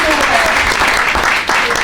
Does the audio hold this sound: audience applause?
yes